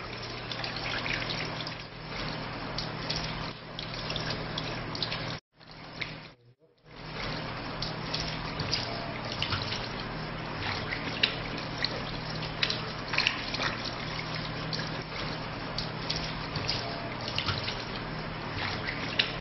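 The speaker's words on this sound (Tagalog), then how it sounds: "Hugasan ang magkabilang paa hanggang sa bukong-bukong ng 3 beses." Water runs steadily from a tap while feet are washed up to the ankles for Islamic ablution, a continuous close splashing and trickling flow that breaks off briefly near the middle and then resumes.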